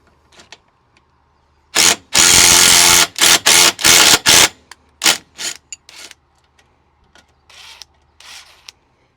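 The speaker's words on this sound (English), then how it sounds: "we tighten the head of the bolt with a 13mm socket" A 13mm socket tightening a rivet nut bolt on CFMOTO UForce U10 Pro front grab handles: a run of loud, close ratcheting and whirring bursts, the longest at first, then shorter choppy pulses trailing off into near silence.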